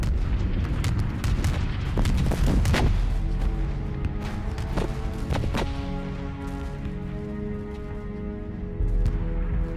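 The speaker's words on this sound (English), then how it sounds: "Brigadier General Rees has a perfect view of the final bombardment." Heavy artillery bombardment of the Battle of the Somme in 1916 roars on, with repeated booming blasts and sharp cracks layered over a dense, continuous rumble, loud and without voices.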